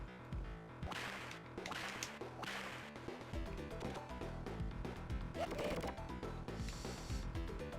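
Earthworm Jim's whip lashes across a gap in the side-scrolling platformer, sharp whooshing cracks repeating over loud, continuous game music.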